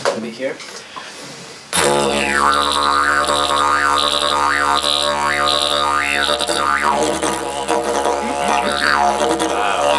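Homemade didgeridoo made from PVC water pipe: a deep, steady drone with rich overtones and shifting vocal formant sweeps, played alone after a brief spoken line and soft rustle at the start.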